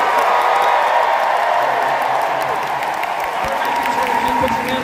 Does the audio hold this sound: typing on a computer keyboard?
no